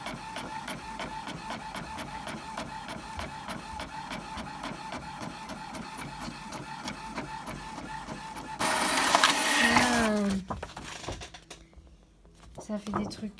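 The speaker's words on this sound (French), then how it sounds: "j'ai l'impression que mon imprimante, elle n'arrive pas à l'avaler." A home printer labours to feed thick 210 g card stock, giving a long run of fast, even mechanical ticking, then a louder grinding, whirring burst and a strained stop as the sheet jams, with brief talk near the end.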